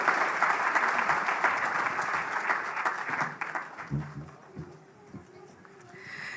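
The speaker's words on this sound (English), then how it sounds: "Another round of applause for Bwana Waziri, please." Audience applause at the KRA 30th anniversary launch event, a dense sustained clapping that fills the room, thinning and fading toward the end.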